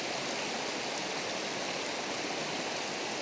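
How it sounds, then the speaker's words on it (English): Floodwater rushes over a mountain creek in a steady, dense roar of broadband noise, continuous and fairly near, with no voices. "It's all spilt over the creek, flooding down the mountain, down the road that I walked up to my house."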